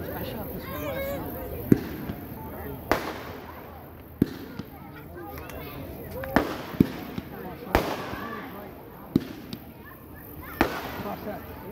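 Crossed Up consumer fireworks going off in a demo, with a string of sharp, separate bangs and crackles spaced a second or two apart, while people talk throughout.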